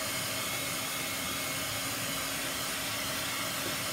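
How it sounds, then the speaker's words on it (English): A small crafter blow dryer runs continuously with a steady, airy hiss and whir, close by and unchanging, with no voices. "if you don't have a jeweler's blow dryer or a crafter blow dryer, you can use a hair dryer"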